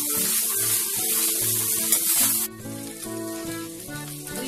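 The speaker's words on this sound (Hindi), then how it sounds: "2-3 से 4 मिनट के लिए इसको हल्का सा हम मीडियम गैस पे भूनेंगे" Potato fried rice fries in a pan over a medium gas flame, giving a steady close sizzle that drops noticeably quieter about halfway through, with background music underneath.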